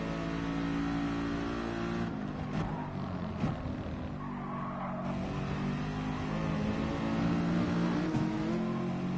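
Audi R8 GT race car engine in GT Sport, droning steadily at high revs through high gears with slight pitch shifts, continuous and close throughout.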